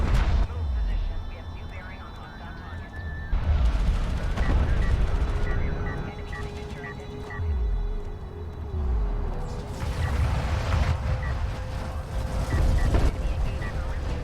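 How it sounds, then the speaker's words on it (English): Det packs go off against a railgun in a multiplayer video game, a series of deep, booming blasts with rumbling tails, spaced a few seconds apart, while someone talks over them. "Shrike is the last little screw you, gonna toss down the det packs onto that railgun there"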